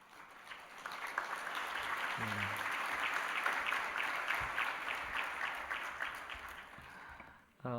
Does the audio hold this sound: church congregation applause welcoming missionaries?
yes